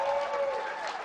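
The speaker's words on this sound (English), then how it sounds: "How about a round of applause?" Crowd applause at a Minnesota Vikings event, a steady wash of clapping filling the whole moment, fairly loud and close, with a raised voice or cheer riding over it.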